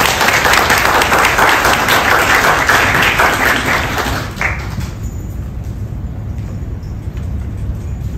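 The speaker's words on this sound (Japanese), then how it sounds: "皆さん拍手でお願いします。" Dense audience applause at a musical instrument hackathon presentation, loud and continuous for about four seconds before dropping to a quieter hall background with a steady hum.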